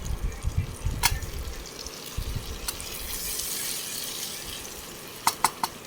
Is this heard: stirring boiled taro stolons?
yes